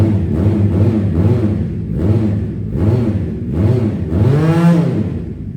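Kawasaki Z1000 replica motorcycle engine revved repeatedly, five or six loud rising-and-falling throttle blips in a steady rhythm, the last one longest and highest, close up with no talk.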